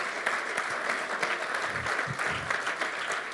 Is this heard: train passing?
no